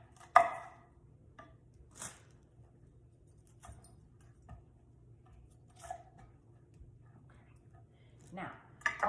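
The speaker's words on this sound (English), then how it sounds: "you want to cut out this core here. So I'm just going to take my knife" A knife cuts the core out of a head of cauliflower, producing a few sparse, quiet crunching cuts spaced apart, with soft talking faintly in the background.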